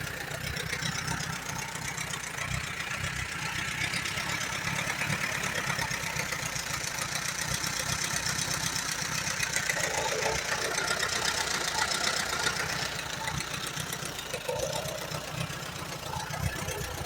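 A 1938 Allis-Chalmers B tractor with a Waukesha engine idles steadily at close range with a knocking, rumbling rhythm that holds for the whole stretch, no voices over it.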